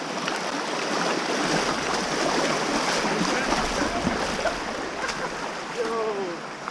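Mountain bike splashing through deep river water after a thunderstorm, a steady close wash of churning, rushing water with continuous splashing throughout.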